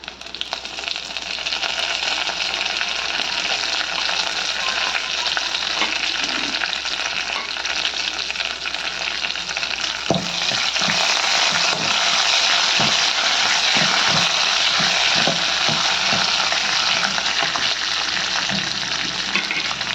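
Ingredients for mutton soup sizzle steadily and loudly in a hot pan, and from about halfway through a utensil scrapes and stirs in a repeated rhythm over the constant frying hiss.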